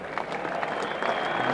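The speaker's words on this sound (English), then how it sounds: "Big applause for the West Indies captain, Viv Richards." Crowd applause at Lord's cricket ground during a 1988 England v West Indies one-day international, a steady wash of clapping heard from a distance with no break, lasting under two seconds.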